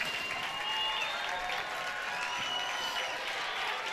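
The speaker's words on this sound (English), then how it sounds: "as the Bulldog faithful stand and clap" Basketball home crowd standing and clapping in a school gym near the end of a game, dense steady applause with a commentator's voice running over it.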